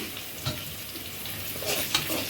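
Garlic frying in oil in a pan over low heat, a steady close sizzle with soft crackles and brief stirring sounds.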